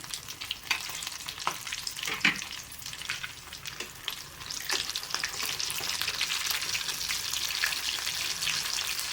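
Oil sizzling and crackling as soya nuggets fry in a pan over medium flame, with scattered sharp pops and a steady hiss that grows slightly denser toward the end.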